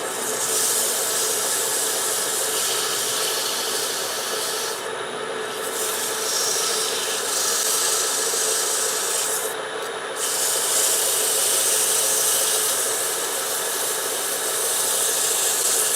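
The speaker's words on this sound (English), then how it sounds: "we'll put a little sandpaper on that to get it shaped." A wooden spin top on a lathe is sanded with sandpaper at slowed speed, producing a steady, close hissing rub that runs continuously, briefly easing twice.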